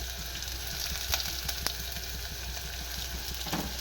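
Chopped onions and ginger paste frying in a pan, making a steady close crackling sizzle that runs throughout with small pops and faint stirring scrapes.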